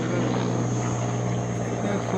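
A helicopter passes overhead above a jungle in Tamil Nadu, its continuous rotor and engine drone steady and fairly loud, with faint voices under it.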